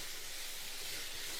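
Salted cabbage sautés in a pan with a brief, steady, soft hiss of sizzling and nothing else heard.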